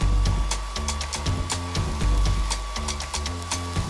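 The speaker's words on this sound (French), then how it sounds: "Qui aurait cru qu'on pouvait transformer un sèche-cheveux en aspirateur?" Hair dryer rigged as a makeshift vacuum cleaner, a loud continuous motor whine and blowing roar with steady rhythmic clatter and rattling pulses throughout, close up and without talk.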